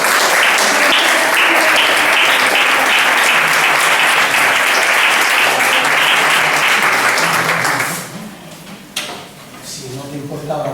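An audience at a talk about refugees at the border applauds loudly and continuously, with dense, close clapping for about eight seconds before it quickly dies away into scattered claps and room noise.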